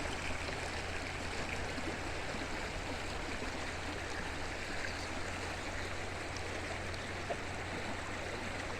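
River water flows steadily at a crossing deep enough that vehicles cannot ford it, a continuous, even rushing that stays constant throughout with no voices.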